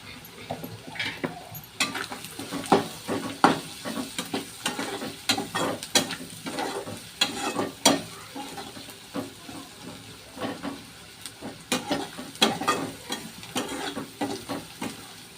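Chili powder fries in oil while a spoon stirs it around a pan for a North Karnataka egg palya, with irregular scraping strokes over a soft, steady sizzle.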